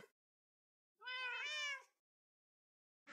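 A cat in a video game gives one clear, drawn-out meow that lasts under a second, heard alone against near silence.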